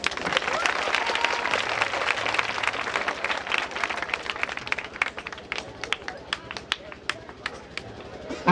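Loud, dense applause from a theatre festival audience rolls on steadily, then thins into scattered individual claps toward the end.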